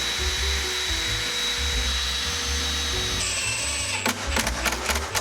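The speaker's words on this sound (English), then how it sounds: "I then drilled the 3 holes through the stretcher so the dowel and threaded rod could pass through." A power drill whines steadily while boring holes through the wooden stretcher of a workbench, then the bit bites with a few short, rougher bursts near the end.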